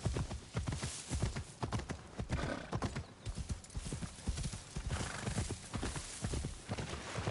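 A horse gallops in the video game Assassin's Creed Shadows, its rapid hoofbeats pounding steadily and densely throughout with no talk over them.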